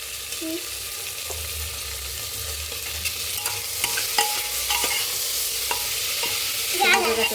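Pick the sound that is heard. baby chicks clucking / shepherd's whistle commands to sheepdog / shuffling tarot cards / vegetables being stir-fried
vegetables being stir-fried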